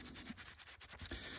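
A muzzle loader stock is hand sanded with soapy water, giving faint, steady rubbing strokes in a soft back-and-forth rhythm, quiet and close, with no talk.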